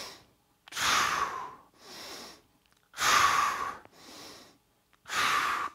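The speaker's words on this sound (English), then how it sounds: "Whoops, I've messed up my breathing." Heavy, forceful breaths come from a lifter doing a barbell chest exercise on the floor, three long loud exhales alternating with shorter inhales in a slow, labored rhythm, close up.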